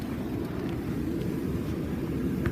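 A Ryko Radius touchless car wash undercarriage blaster sprays beneath a car, a steady, dense, roaring hiss of high-pressure water heard close and unbroken from inside the vehicle.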